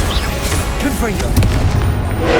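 A Confringo explosive spell blast from Hogwarts Legacy lands as a loud booming burst with crackling debris amid busy combat effects, brief and dense, with voice sounds underneath.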